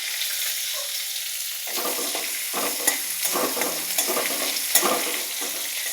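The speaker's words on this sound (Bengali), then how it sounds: "রসুন ফোড়ন দিয়ে দিলাম।" Garlic, dried red chili, green chili and cumin sizzle in hot oil in a wok, a steady close crackle broken by the scrape and stir of a spatula.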